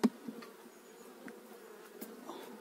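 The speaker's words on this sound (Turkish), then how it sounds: "Hava güzel, arılarımız dışarı çıkıyor." Honey bees flying out of a hive on a fine February day, a faint buzzing with a few brief closer passes and small clicks.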